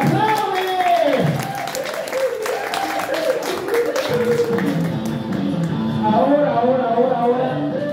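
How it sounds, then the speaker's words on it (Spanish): Guests at an adult birthday party with hired clowns in Mexico applaud in scattered, uneven claps while voices chatter and call out over them. "Fuerte los aplausos para Alejandra"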